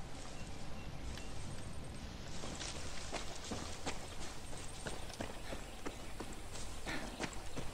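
Horse hooves clip-clop steadily in the Far Cry 6 video game, a rhythmic series of fairly close, crisp footfalls over a low ambient bed.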